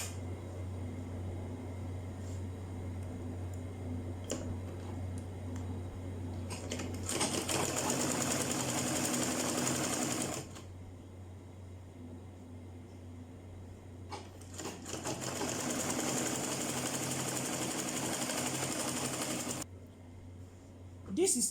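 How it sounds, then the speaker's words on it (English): A sewing machine runs a straight stitch on fabric for a V-shaped ruffled turban. It makes two steady whirring runs, one of about three seconds and a longer one of about five seconds, separated by a quieter pause with low background hum. "Let's move over to the sewing machine and let's sew it together."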